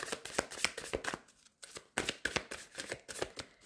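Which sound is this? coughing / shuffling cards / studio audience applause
shuffling cards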